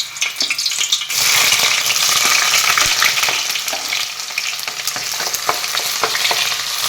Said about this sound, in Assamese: ইয়াতে প্ৰথমতে পিঁয়াজখিনি দি দিওঁ